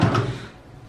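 A dresser drawer in a resort villa bedroom slides open with a short, close wooden knock and rumble that quickly fades, heard alone without talk.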